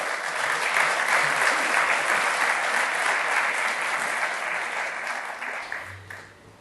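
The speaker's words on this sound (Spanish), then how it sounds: "demos un fuerte aplauso" An audience at a book presentation gives strong, sustained applause, dense clapping that stays loud and then fades away toward the end.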